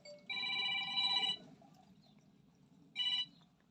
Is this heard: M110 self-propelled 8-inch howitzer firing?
no